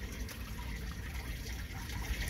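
Drain water from a household washing machine gushes and splashes in a steady, moderately quiet flow with no one speaking.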